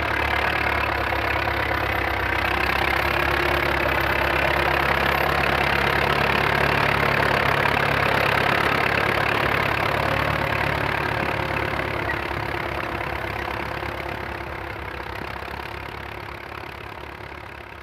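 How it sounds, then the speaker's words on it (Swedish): A Swedish Valmet 702 tractor from 1979, with a four-cylinder engine of about 75 horsepower, idles at a ploughing event, a steady close diesel chug with a slight knocking rhythm that eases a little toward the end. "En ganska ovanlig traktor i Sverige är Valmet 702."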